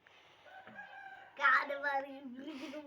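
A hen lets out a series of drawn-out, tonal clucking calls that rise into a louder, harsher squawk midway before trailing off, close up and alone.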